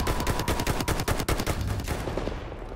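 A Thompson submachine gun fires in Battlefield 1 in rapid, loud bursts of sharp cracks, one burst after another, before fading out at the end, with no talk over it.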